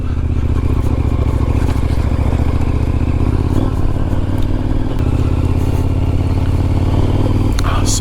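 An adventure motorcycle climbing a rocky trail, its engine droning loud and steady close by, with rattling and scraping of stones under the tyres.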